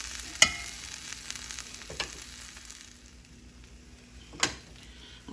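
Soft, steady sizzle of a Korean seafood pancake frying in a pan, quiet and close, with a couple of sharp clinks or taps cutting through.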